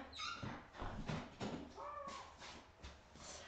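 A pet dog whimpers and whines at home, wanting to go out, a string of thin, high nasal cries close to the microphone with no talking.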